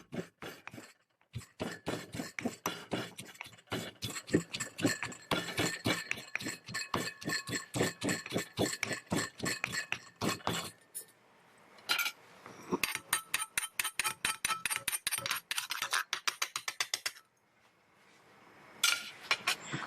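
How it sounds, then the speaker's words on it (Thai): Chilies pounded with a mortar and pestle for a Thai pork and holy basil stir-fry, giving a long run of rapid, sharp, evenly paced knocks up close, with a short pause partway and a second quicker burst near the end. "เราโขลกพริกเสร็จแล้วเนาะ"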